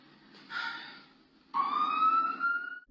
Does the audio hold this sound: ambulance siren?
yes